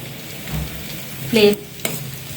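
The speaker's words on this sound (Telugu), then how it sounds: "నెక్స్ట్ కిస్మిస్ ఫ్రై చేసుకోవాలి. మీడియం ఫ్లేమ్లో పెట్టుకోవాలి." Raisins fry in ghee over a medium flame for rava laddu, giving a steady soft sizzle with a couple of brief utensil clinks partway through.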